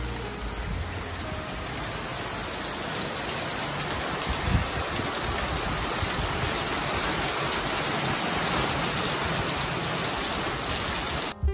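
Steady rain falls outside a hotel room window, a dense, even hiss of drops on surfaces that holds constant from start to finish with no talking.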